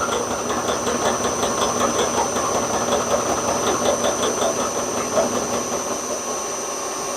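A milling cutter machines a cast iron engine cylinder, giving a steady, loud mechanical whir with a faint rhythmic chatter that runs continuously and stays close throughout.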